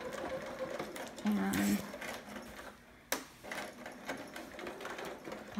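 A sewing machine stitches and back stitches on a romper garment, its steady mechanical whirring running with a brief pause and restart, while a person talks over it.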